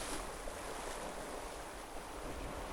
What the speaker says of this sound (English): I love this Tramontana wind.